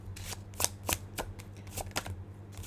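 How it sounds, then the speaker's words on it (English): Cards are shuffled close by in quick, crisp riffles and taps, an uneven rhythm of soft snaps over a low hum. "I was looking at the cards while I was shuffling"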